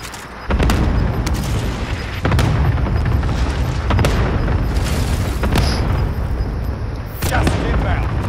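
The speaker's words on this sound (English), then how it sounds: "They're cluster striking our building." Cluster strike explosions pounding a building in a video game: a sustained series of heavy booms and blasts, each hit sharp and loud over a dense rumbling din, with voices talking over the barrage.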